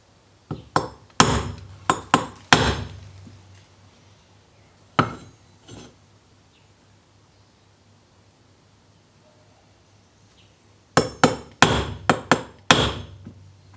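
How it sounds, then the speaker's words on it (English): A small hammer strikes a metal punch on a DIY injection-mould frame: sharp, close metallic taps in clustered bursts, two near the start, a pair midway and another run at the end, with quiet gaps between. "let's use my little hammer."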